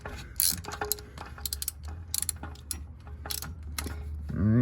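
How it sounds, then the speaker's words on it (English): A ratchet wrench loosens the oil filter canister on a Toyota Highlander, giving rapid clicking bursts in short runs close by, over a low steady hum. "you're gonna put your wrench in there, and then you're gonna loosen it, and it's gonna come off."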